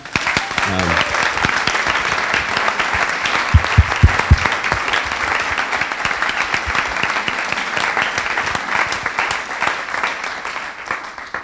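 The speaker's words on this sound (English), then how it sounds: "So just a round of applause for those guys in particular." An audience at a talk gives a sustained round of applause, dense, steady clapping filling the room for the whole stretch, with a few louder bursts in the middle.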